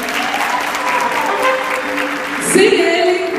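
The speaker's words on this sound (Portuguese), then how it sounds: "Mais aplausos." Steady, full applause from the audience at a pop music recital, dense clapping that swells slightly toward the end.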